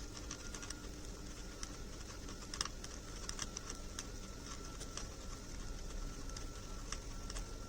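Knitting needles click steadily and quickly while a baby cap is knit in a three-knit, one-purl rib pattern. The tapping is soft and close, runs continuously over a faint background hiss, and has no talking.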